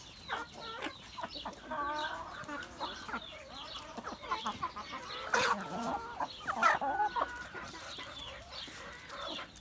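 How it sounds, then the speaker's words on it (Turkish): A naked-neck breeding rooster and hens give soft, irregular clucks and murmurs close by in a farm coop, with scattered rustling and occasional louder squawks. "Burada damızlık olan kel boyunlu horozumuz."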